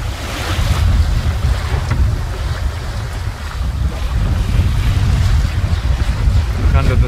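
Choppy, confused sea slaps and churns around a Noelex 30 sailboat sailing against the tide near a large island between Keppel Bay and Island Head Creek. Steady heavy wind buffets the microphone throughout, loud and close.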